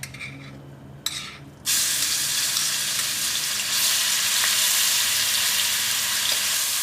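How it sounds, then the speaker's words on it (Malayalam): Ginger garlic paste dropped into hot oil for chicken Manchurian, bursting into a loud, steady, close sizzle after a few soft clinks, the hissing frying holding strong and continuous to the end. "എണ്ണ നന്നായിട്ട് ചൂടായിട്ട് ഈ എണ്ണയിലേക്ക് നമുക്ക് ആദ്യം നമുക്ക് ജിഞ്ചർ ഗാർലിക് പേസ്റ്റ് ചേർക്കാം"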